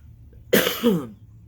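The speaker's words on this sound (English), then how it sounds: "Here I go with the sneezing again and coughing." A single harsh cough, close and loud, with a short rough follow-through, alone against a quiet background.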